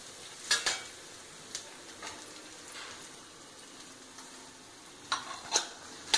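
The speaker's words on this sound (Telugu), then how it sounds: "ఇప్పుడు ఆనియన్స్ వేసుకుందాం." Onions being stir-fried in a pan for chilli idly, a soft background sizzle broken by a few sharp clinks and scrapes of the spatula against the pan.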